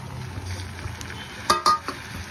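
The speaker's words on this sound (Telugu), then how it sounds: "కలుపుకోవాలి ఒకసారి." Prawn curry with brinjal and tomatoes stirred in a pan, a faint steady sizzle broken by a few sharp clinks of a spoon against the pan near the end, with no talking.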